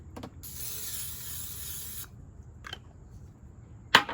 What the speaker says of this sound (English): spray the bottom with a non-stick cooking spray